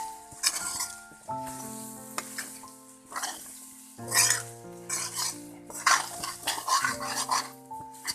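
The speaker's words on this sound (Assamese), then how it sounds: "এতিয়া এইখিনি ভালকৈ মিক্স কৰি ল'ম আমি" Pork and garlic paste stirred and tossed in a sizzling pan, with repeated scrapes and clinks of a utensil against the metal over a constant frying hiss, close and fairly loud.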